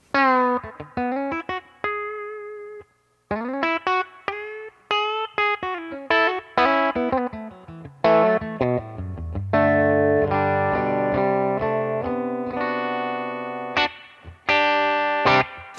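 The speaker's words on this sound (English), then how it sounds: "I'm going to add a little bit of reverb with my favorite reverb pedal, the Boss Fender 63 Spring" Electric guitar played through a Fender amp with a Boss Fender '63 Spring reverb pedal: a loud, clean run of picked notes and ringing chords, with sustained tones and a spring-reverb tail, sounding alone.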